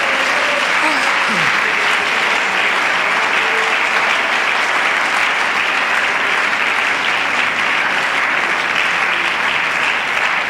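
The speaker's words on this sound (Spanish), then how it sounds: "Denle aplausos a la gloria de Dios." A church congregation at a Sunday school service breaks into sustained, dense applause, loud and close, filling the space evenly for several seconds.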